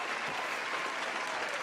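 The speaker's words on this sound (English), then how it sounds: "let's give her a round of applause" A brief, even burst of audience applause, many hands clapping together at a moderate, distant level.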